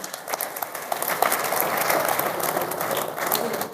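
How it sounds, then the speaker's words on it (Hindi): An audience applauds steadily at an event on Raksha Bandhan, welcoming police officers, the dense clapping holding at a constant level throughout with a faint murmur of voices beneath. "उनका स्वागत आपको तालियों से करना चाहिए था।"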